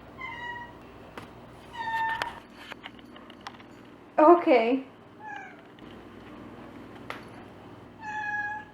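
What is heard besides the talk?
cat meowing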